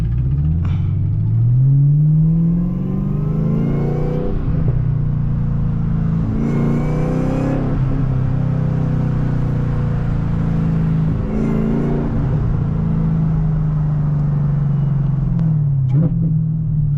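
Manual Chevrolet Camaro ZL1 accelerating hard from the driver's seat, its engine roaring loud and steady through repeated gear pulls, with a rising supercharger whine over the deep exhaust rumble.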